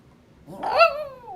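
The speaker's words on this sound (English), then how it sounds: "They like the Lulu howls." An old dog howls once, a short rising-then-falling wail that swells and fades, close and alone with no talk.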